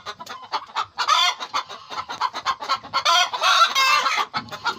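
Brown Dekalb hens cluck loudly and continuously near the laying nests, overlapping calls forming a busy, steady racket with no pauses.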